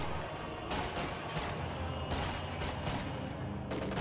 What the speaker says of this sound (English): A lot of those carbine shots did not penetrate.